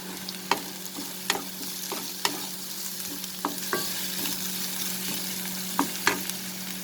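Ingredients for aloo paratha sauté in a hot pan, giving a steady sizzle broken by regular scraping and stirring clicks, close by and with no talking.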